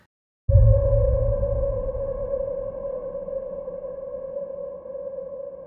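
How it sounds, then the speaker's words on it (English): A single dark, sonar-like ping, a sampled sound effect named Solar Ping, starts abruptly and rings on as a sustained eerie tone with a low rumble beneath, slowly fading while still hanging. "Here's a sound that I really, really loved called Solar Ping."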